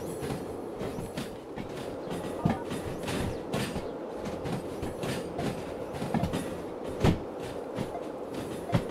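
Railway wagons shunted nearby, a steady rumble broken by irregular clanks, knocks and wheel clatter over several seconds, moderately loud with no speech.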